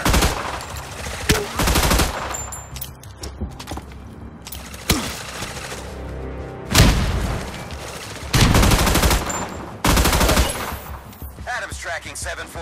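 Naval gunfire in the Battleship video game, with loud rapid bursts of heavy gunfire and booming shots in repeated clusters and a radio-style voice behind them.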